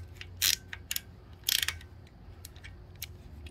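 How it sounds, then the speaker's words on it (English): Close ratcheting clicks from a wrench tightening an oil-line fitting on a Kawasaki KE175 motorcycle, in two short bursts followed by faint scattered ticks. "We'll just tighten this one back up."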